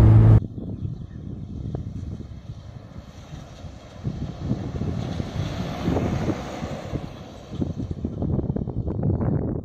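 A Tata Safari Storme SUV accelerates in fourth gear on a highway, its engine a steady low rumble heard from inside the cabin beneath heavy wind roar that swells toward the end.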